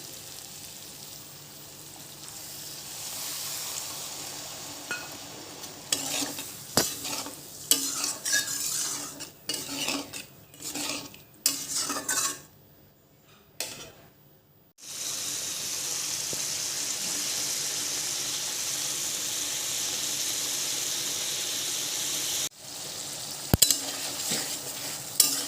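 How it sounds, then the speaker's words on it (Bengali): Taro stolons and jackfruit seeds being sautéed in a pan, with steady sizzling and frying, occasional stirring and utensil scrapes, a brief quiet stretch midway, then continuous close frying. "ভালোভাবে কষে নিতে হবে।"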